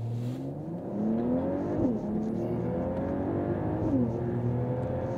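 A 2024 Mercedes-AMG GLE 53 Coupe accelerates hard from a dead stop, engine note climbing steadily through the gears with brief dips at each shift, clear and close.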